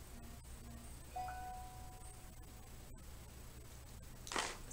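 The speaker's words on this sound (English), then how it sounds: "Sorry about my phone going off." A phone notification chime sounds quietly indoors as a short series of soft tones. A brief brighter burst follows. No one speaks.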